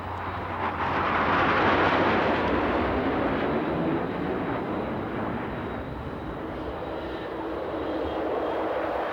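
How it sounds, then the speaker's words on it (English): A Boeing B-52 bomber makes a fast pass over the airfield at a 1990 Battle of Britain anniversary air show, a broad, loud jet roar that swells, peaks and lingers at a distance, with no talking. "here's the B-52, not in need of fuel today, but back for a fast pass by the airfield"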